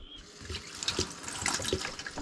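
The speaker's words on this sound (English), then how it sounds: "If they look like they need a rinse, I give them a rinse and shake out the water" Tap water running over fish fillets being rinsed before brining for smoking, a steady close splashing stream with small irregular spatters throughout, no talk.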